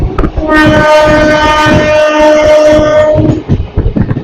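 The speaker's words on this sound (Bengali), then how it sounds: "আর এটা হচ্ছে ইন্টারসিটি এক্সপ্রেস পুরুলিয়া হাওড়া।" A Purulia–Howrah Intercity Express passes near a rain-soaked station, sounding a long, loud, multi-tone horn for about three seconds over rumbling wheels and rattling carriages, with faint voices around it.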